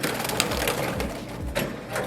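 Pet birds indoors give soft, repeated cooing calls close by, mixed with light scratching and rustling.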